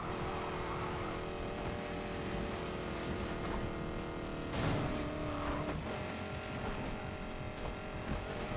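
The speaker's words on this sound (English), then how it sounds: "Do you not hear the engine on this bad boy?" Car engine in Need for Speed Payback hums steadily at moderate loudness, with a brief tire squeal or skid midway and a low rumble underneath, with no talking.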